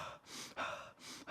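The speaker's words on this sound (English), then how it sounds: "when you breathe through your mouth" Heavy breathing through the mouth during cardio training for MMA and boxing, three strong airy breaths in and out close to the microphone, with no talking.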